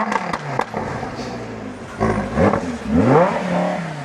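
A car pulling away, its engine revving and whirring up with clatter and scraping, rising in loudness toward the end with no talk over it.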